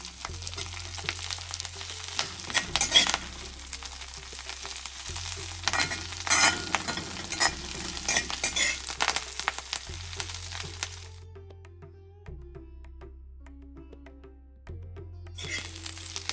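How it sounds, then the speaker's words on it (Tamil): Curry leaves roast in hot oil over a low flame, giving a continuous crackling sizzle with occasional stirring scrapes and a steady low hum, until the frying noise suddenly cuts out for a few seconds near the end and then returns. "லோ ஃப்ளேம்லேயே நல்லா இந்த கருவேப்பிலையை ரோஸ்ட் பண்ணணும் எண்ணெயில்."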